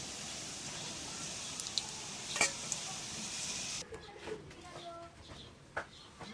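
Puli pitha stuffed with coconut filling fry in hot oil. A steady, close sizzle runs through the first half and then cuts off abruptly, leaving quieter scattered clinks and kitchen sounds.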